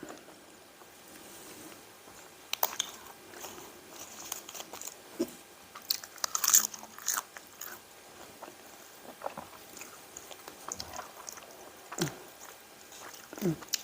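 Someone eating sticky rice with fried chili, with close, intermittent chewing and sticky mouth sounds, occasional soft crunches and smacks scattered over a quiet background.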